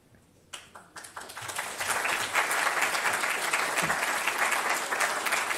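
Audience applause at a bridge showcase awards event, swelling from a few scattered claps into sustained, dense clapping from a large crowd that holds steady to the end.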